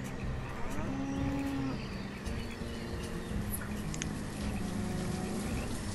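Cattle in the Banished city-building game low repeatedly across a steady outdoor ambience, several moos overlapping at moderate distance with faint bird and insect sounds behind.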